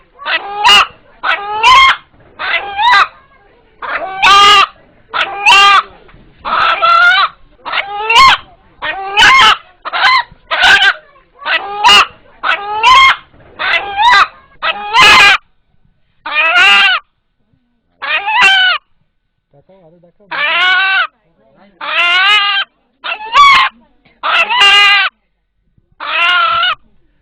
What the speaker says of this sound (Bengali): এখানে উপস্থিত যারা এই মোরগের ডাক শুনলেন